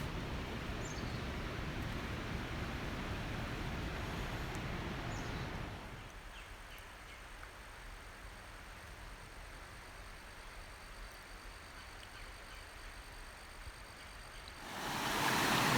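Ginger Cake Creek flowing at a trail crossing in the North Carolina mountains, a steady soft wash of water that drops quieter partway through, with wind-like hiss and no voices.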